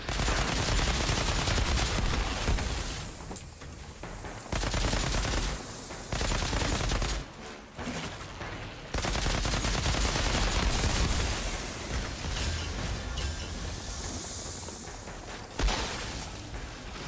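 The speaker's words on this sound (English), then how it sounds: "Oh yeah, shotgun's much better against these close" Shotgun fire from the looter shooter Outriders, repeated heavy blasts in bursts separated by short gaps, loud and close among other combat noise, with no talk.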